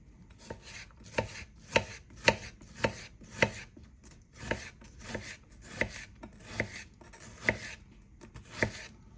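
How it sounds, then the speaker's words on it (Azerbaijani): An onion is sliced thinly with a knife on a board, about fifteen crisp, evenly spaced chops with a steady rhythm, close and fairly quiet, with no talking. "Bu soğanı doğrayanda biraz danışmıram. Ehtiyat edirəm, əlimi kəsərəm. Amma nazik doğrayıram."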